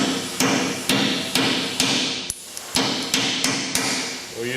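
About ten sharp, evenly spaced hammer blows ring out up close as a new router bushing drives the old bushing out of a metal casting on a Norfield Rev Series Magnum.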